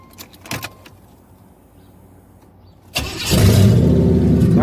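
A 350 TPI engine cranks after a few keys jangle, then catches and settles into a loud, rough idle with a deep rumble.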